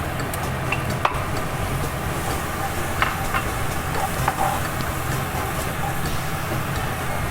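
Tomatoes tossed into golden fried onion in a pan, a continuous close sizzle with repeated stirring scrapes and a few sharp clinks of the utensil, no talking.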